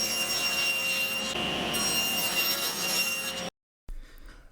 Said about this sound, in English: while we're still here at the table saw